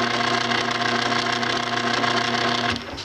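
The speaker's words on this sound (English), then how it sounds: "It's a gear reduction motor with a screw drive." An old electric bed's gear reduction motor with screw drive whirs steadily close up, a dense mechanical hum with fine rapid ticking that winds down abruptly at the end.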